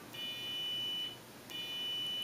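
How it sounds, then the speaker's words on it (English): Two short, clear electronic beeps from a multimeter's continuity test on a Kayfun 3.1 clone vape atomizer, probing between the base and a screw through a Delrin insert; a steady tone for about a second, a pause, then a second tone. "hear that beep. Okay, and that would tell you that the screw somewhere was touching that base like that."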